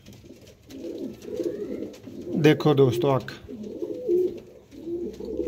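A black-faced teddy pigeon, one of a set of pigeons, coos in low rounded pulses close by, with a louder burst midway, while someone talks over much of it.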